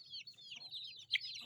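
Chickens at a Thai poultry breeding farm cluck in short, chattering bursts, with a steady low hum of farm machinery underneath and one louder squawk near the end.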